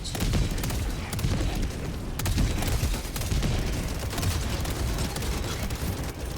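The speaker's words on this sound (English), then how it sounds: "these mortar sentries, keeps attacking that same general direction" Mortar sentries in the Helldivers 2 video game fire steadily, producing a dense, loud barrage of overlapping booms and blasts that runs without a break for the whole stretch.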